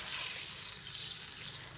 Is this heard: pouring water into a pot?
yes